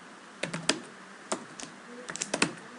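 Quick bursts of keystrokes on a computer keyboard as a networking command is typed, with clustered clicks and brief pauses, close and fairly clear.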